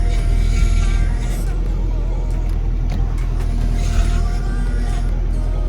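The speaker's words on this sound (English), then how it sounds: "let's listen to that power steering" A 2006 Nissan Altima with about 160,000 miles idling loudly up close, a constant low engine rumble with a faint whining tone from the power steering layered over it, no talking.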